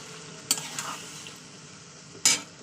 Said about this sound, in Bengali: এবার ভালো করে আমি এটা হাই ফ্লেমে দিয়ে ভালো করে কষাবো